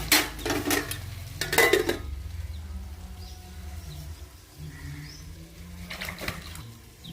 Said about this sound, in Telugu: ఇప్పుడు వచ్చేసేసి వంకాయ కట్ చేసుకుంటున్నాము.